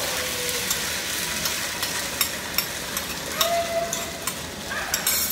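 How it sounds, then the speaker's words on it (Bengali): Sauce being stirred into browned ginger and garlic frying in a pan: a loud continuous sizzle with scattered scraping and tapping from a spoon, close by. "এখন আমি এর মধ্যে এই সসটা আবার একটু গুলায় দিয়ে দিব"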